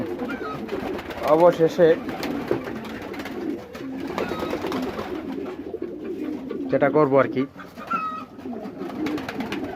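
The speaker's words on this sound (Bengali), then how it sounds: "এই যে কবুতর এটা ডিমে তা দিতেছে" Domestic pigeon brooding on its eggs, cooing in repeated soft, throaty bursts close by while a person talks over it.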